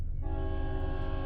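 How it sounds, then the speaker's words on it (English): A train horn blares loud and steady, its layered tones holding over the low rumble of a passing train. "we're just going to pause this till this train gets by"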